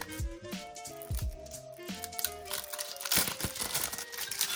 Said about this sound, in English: let's crack open the cellophane and just get into it